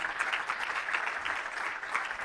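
Audience applause for the speakers and panelists at a cross-border coworking conference, a steady dense clatter of many hands clapping that holds at even loudness throughout.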